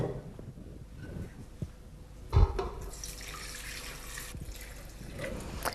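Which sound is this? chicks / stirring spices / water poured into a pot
water poured into a pot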